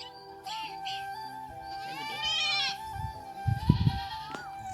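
A goat bleats on a goat farm, a sick animal suffering a sudden seizure, with a few wavering cries close by over a low rumble and dull handling thumps near the end.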